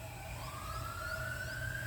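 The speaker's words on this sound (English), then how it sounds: "another ambulance, somebody else is in trauma." An ambulance siren wails steadily from a nearby highway, a rising, sustained tone heard at moderate distance over a low traffic rumble.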